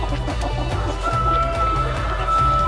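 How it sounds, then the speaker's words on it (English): A crowd of meat-breed chickens, including a few hens, clucks and murmurs continuously up close, with a rooster's crow rising through the steady flock noise. "We have a couple of hens in this meat bird batch"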